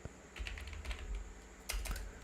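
Fingers tap steadily on a computer keyboard while entering data in Tally Prime accounting software, a run of close, crisp keystrokes with a couple of heavier key presses, and no talking.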